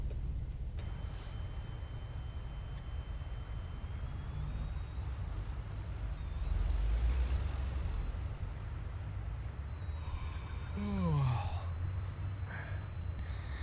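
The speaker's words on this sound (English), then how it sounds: "And our guy is yawning." A truck driver character in American Truck Simulator gives one long, falling yawn near the end, over a steady low engine rumble and road noise that fill the whole stretch.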